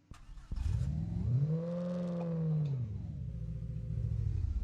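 Car engine in the BeamNG Drive driving game revving hard in reverse, a single sustained rising-and-falling rev that holds high for over a second, then settles into a rough idle rumble, loud and close.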